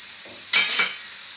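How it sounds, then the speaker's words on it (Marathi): Half a cup of sugar being stirred into carrot halwa that has been fried in ghee and cooked down in milk, heard as one brief, close scraping sizzle in a pan with no talking. "आता ही साखर पण आपण ह्याच्यात घालून चांगली परतायची आहे"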